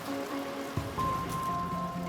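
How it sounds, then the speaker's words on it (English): Steady rain patters and hisses outside a charnel house on a London excavation site, a constant wash with a soft thump partway through and a faint tone above it. "Oh, should we go out the rain?"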